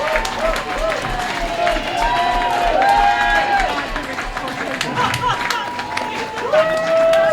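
Spectators cheer and clap along the riverbank for a Cambridge Boat Club rower at the Head of the Charles regatta, a steady crowd roar running under a commentator's talk.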